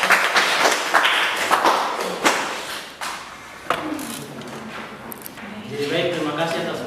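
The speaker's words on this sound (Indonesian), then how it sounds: "Tepuk tangan." Classmates in a classroom give a short burst of clapping after a group presentation, scattered sharp hand claps and thumps tapering off, then a voice begins talking.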